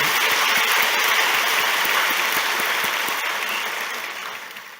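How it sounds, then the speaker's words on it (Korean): A church congregation applauds during a sermon, a dense sustained clapping that fills the room and slowly fades toward the end. "이제 박수를 좀 쳐주십시오."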